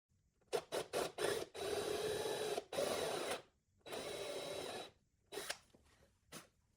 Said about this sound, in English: Drill a 5/16 inch diameter by 1/2 inch deep hole.